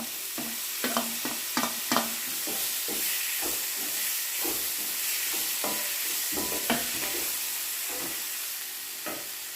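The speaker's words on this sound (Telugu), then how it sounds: "ఇప్పుడు ఇందులో టమాటాలు వేసుకొని అంతా కలుపుకోవాలి." Tomatoes are stirred into a pepper masala egg curry frying in a pan, giving a steady sizzle and hiss with repeated scraping stir strokes throughout, close and moderately loud, with no talking.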